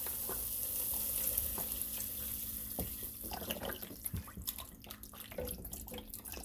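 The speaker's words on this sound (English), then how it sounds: "now I'm going to add in some vegetable broth" Vegetable broth pours into a soup pot, a soft continuous liquid splash and sizzle that grows choppier with stirring toward the end, fairly quiet.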